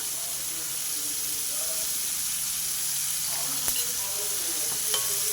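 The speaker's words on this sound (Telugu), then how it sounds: "ఉల్లిపాయలు కాసేపు వేగనిస్తానండి" Salted onions sizzle in a pan while being tempered for a bitter gourd tamarind stew, a steady close hiss with occasional stirring scrapes and faint clicks, no talk over it.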